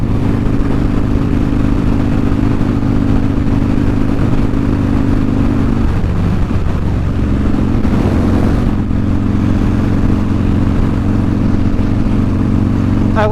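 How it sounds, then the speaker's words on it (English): A motorcycle on a town street passes by, its mid-pitched engine droning steadily and swelling briefly midway as it goes past, heard alone without talking. "Ooh, another motorcycle."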